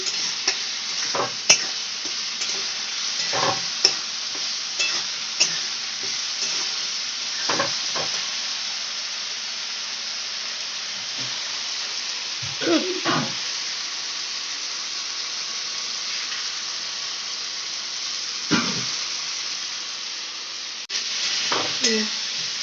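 Curry masala frying in oil for a dhokar dalna, a steady hiss of sizzling with occasional scrapes and knocks of a spatula stirring the pan, some stretches quieter between strokes.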